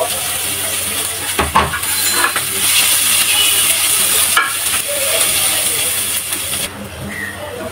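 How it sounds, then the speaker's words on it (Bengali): Chopped onions frying with black cumin seeds in oil give off a loud, steady sizzle close by, broken by a few clattering stirs and bumps. "পেঁয়াজগুলো ভাজা হয়ে গেছে"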